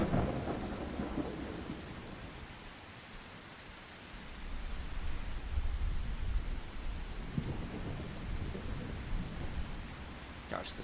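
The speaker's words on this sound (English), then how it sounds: "Gosh, this storm just does not end." A video game thunderstorm with heavy rain hissing steadily and low rumbling thunder swelling midway, fairly faint and continuous with no voices.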